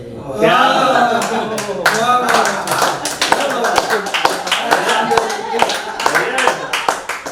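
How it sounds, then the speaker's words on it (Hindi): Audience clapping at a Holi comedy poetry gathering, a steady burst of handclaps that runs from start to finish while the poet's voice carries over it. "आप जो समझ रहे हैं और ताली बजा रहे हैं"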